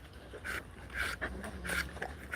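A small dog pants close by in quick, rhythmic breathy puffs, about five or six bursts in a couple of seconds, fairly quiet.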